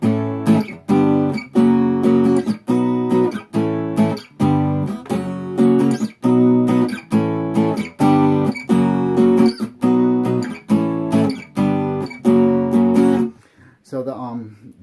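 Electric guitar power chords barred on the low string, played for a song: a loud, steady riff of repeated strummed chords in a chugging rhythm, about a dozen hits, ending with a brief pause.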